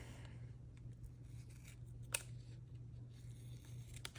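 Scissors snip through paper ephemera while clothing tags are being covered, giving a few soft, scattered cutting clicks with one sharper snip, quiet over a steady low hum.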